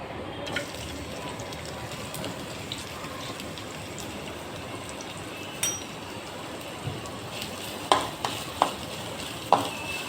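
Onions sizzle and crackle in hot oil in a pan, a steady frying hiss across the whole stretch, with occasional sharper clicks of a utensil toward the end.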